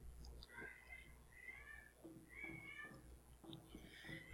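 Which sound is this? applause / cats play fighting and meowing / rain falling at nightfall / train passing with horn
cats play fighting and meowing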